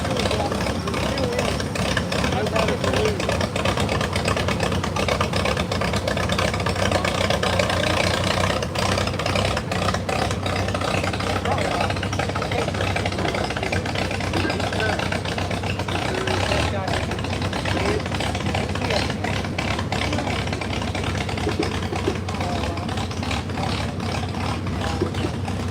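Antique tractor engines run at a tractor pull at a West Virginia farm museum club, a steady, continuous rumbling drone holding at an even loudness throughout, with people talking over it.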